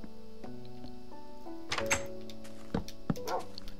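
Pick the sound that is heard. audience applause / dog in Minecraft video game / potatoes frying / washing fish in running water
dog in Minecraft video game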